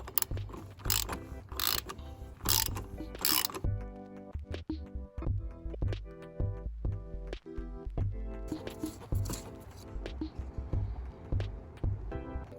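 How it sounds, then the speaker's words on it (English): Wrench ratcheting on the oil filter housing of a Mercedes G500 W463 during an oil change, bursts of quick close clicks separated by pauses and handling noise. "I'm going to grab my wrench."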